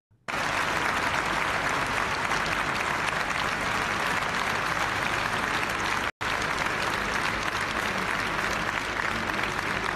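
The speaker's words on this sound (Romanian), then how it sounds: "Pe străzile Florenței au fost auzite aplauze la scenă deschisă în momentul în care coșciugul în care se afla fotbalistul de 31 de ani a ajuns" Sustained applause from a large crowd in the streets of Florence as footballer Davide Astori's coffin arrives at the church, loud and continuous clapping with a brief cut partway through.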